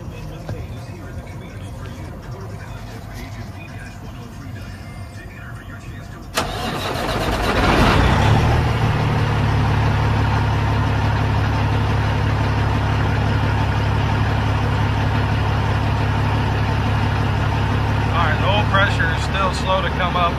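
A Cat C15 diesel engine in a Peterbilt 379 truck, tested for low oil pressure, idles quietly, then cranks and catches with a sudden rise in level and settles into a steady, loud low rumble. Speech is present over part of it.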